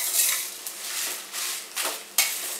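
Nagpuri kala masala spices fry slowly over a low flame while being stirred, giving soft scraping sweeps and light clinks against the pan over a faint sizzle, with brief pauses between strokes.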